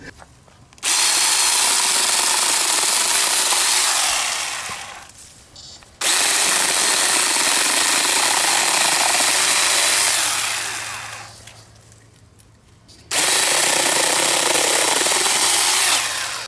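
A mini chainsaw cuts in three loud bursts, each a sustained high buzz with a short quiet pause between, recorded up close with no talking.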